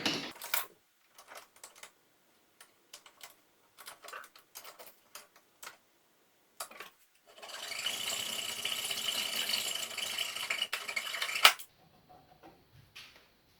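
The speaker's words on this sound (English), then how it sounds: "we are going to trim this piece right here so that the platform can fit on it" A hand saw fitted with a metal-cutting blade trims a piece of wood for a lazy Susan platform: a few scattered clicks and taps, then a steady stretch of rasping, close cutting that stops abruptly.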